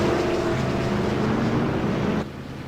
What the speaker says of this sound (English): they are revving those engines, ready to go racing